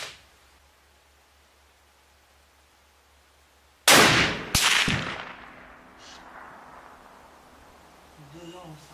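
Two sharp, very loud rifle shots about a second apart from a Sako TRG 42 in .338 Lapua Magnum at a shooting range, each with a long ringing tail and faint voices afterward.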